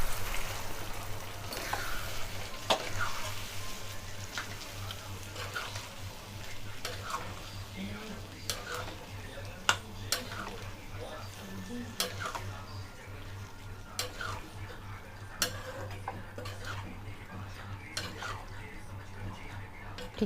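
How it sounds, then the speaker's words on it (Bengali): Boiled kabuli chickpeas stir-fried in spiced oil masala for ghugni, with a steady low sizzle throughout and frequent scraping, clinking spoon strokes against the pan at an irregular rhythm. "সেদ্ধ করা ছোলাটা আমরা দিয়ে ভালো করে কষিয়ে নেব"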